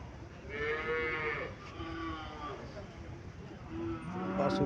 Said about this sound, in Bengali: এখানে শাহিওয়াল জাতের একটা গরু দেখা যাইতেছে